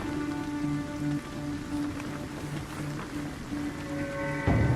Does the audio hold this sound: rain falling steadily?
yes